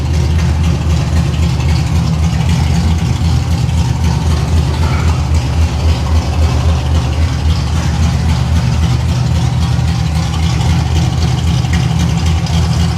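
A 1989 Pontiac Trans Am GTA idles with a steady, close, rumbling engine note that holds evenly from start to finish, with no talking over it.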